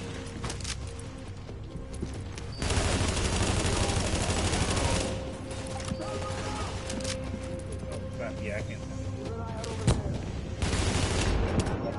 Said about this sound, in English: Who the hell shooting us?